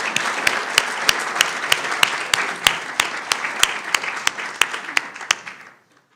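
Audience applause for both candidates at a county candidates' forum, steady clapping from a room full of people with sharp individual claps standing out, holding for about five seconds before stopping abruptly.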